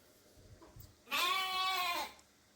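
A sheep being bathed and rinsed with clean water gives one loud, wavering bleat lasting about a second, close by, after faint splashing and handling noises.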